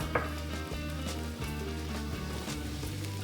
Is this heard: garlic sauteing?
yes